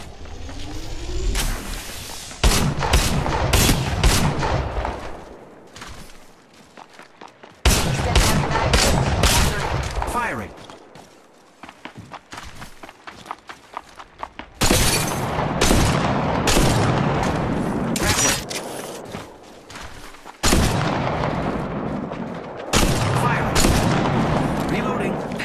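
Gunfire from Apex Legends Mobile, loud bursts of automatic weapon fire in several clustered volleys separated by brief lulls, with in-game voice callouts mixed in.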